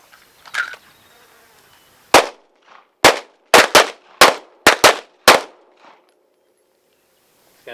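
Pistol shots fired at a defensive shooting drill on a range, eight sharp, loud cracks in two quick bursts, with short pauses between some shots and quiet in between.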